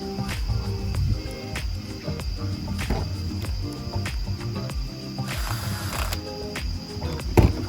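Parts being screwed onto a Homelite 26CS chainsaw during repair, heard as close, continuous small mechanical clicks and ratcheting scrapes with a brief louder knock near the end.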